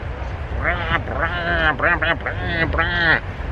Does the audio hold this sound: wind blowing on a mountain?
no